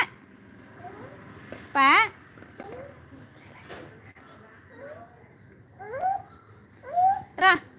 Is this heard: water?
no